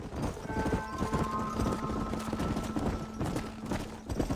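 Horse hooves clip-clop steadily on hard ground in Red Dead Redemption, several animals close by, with a low tonal hum underneath.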